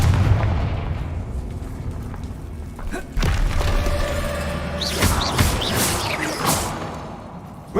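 Repeated Confringo fire spell blasts in Hogwarts Legacy, a run of booming explosive bursts with whooshing tails echoing through an old abandoned interior, several impacts in close succession at steady loudness.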